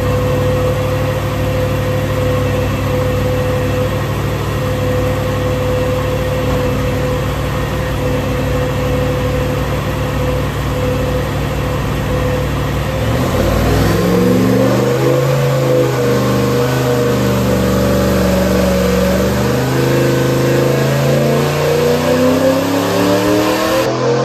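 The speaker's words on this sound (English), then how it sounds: "So I can imagine you guys want to hear these engines run." A Ford 363 small-block and a Ford 5.0/302 with ported GT40P heads run steadily on a dyno with a loud, continuous drone, then about halfway the pitch shifts and rises into a stronger, revving roar that continues to the end.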